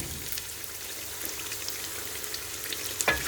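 Cumin seeds and cardamom frying in oil with onions while meat browns for pilau beef, a steady dense close sizzle with a sharper crackle near the end.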